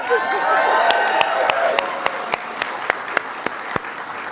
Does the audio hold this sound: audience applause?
yes